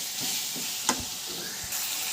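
A ginger and green chilli paste fries in a pan for a bottle gourd curd chutney, sizzling steadily throughout with a couple of stirring scrapes and one sharp utensil knock.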